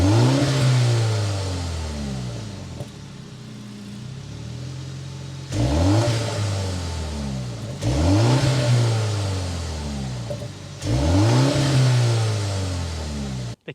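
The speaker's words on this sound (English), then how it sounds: "start it up so you can hear that exhaust note" Exhaust note of a 2025 BMW M235i xDrive Gran Coupe after start-up, heard as four loud, close revs that each climb and fall back, separated by a quieter idle.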